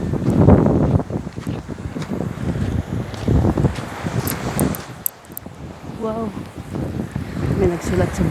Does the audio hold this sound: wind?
yes